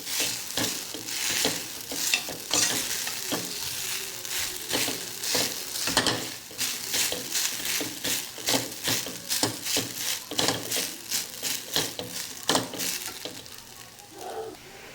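Curry leaves spit and crackle loudly in hot oil, a dense, continuous sizzle broken by sharp popping bursts and occasional stirring scrapes, close up with no talking.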